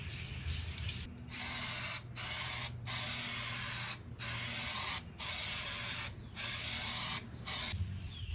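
Long hissing bursts of spray paint coating a rusty metal chair, several sustained sprays of a second or so each separated by short pauses, close and steady.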